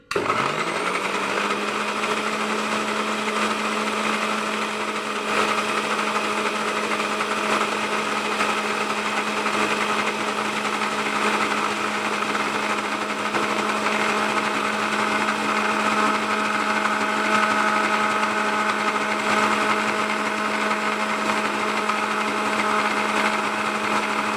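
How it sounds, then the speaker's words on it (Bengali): A blender grinds poppy seeds into paste for a jackfruit curry, its motor a loud, steady, high whine that runs unbroken for over twenty seconds with no voices. "পোস্তটা বেটে নিই, তারপর পেঁয়াজ দিয়ে ঘষবো।"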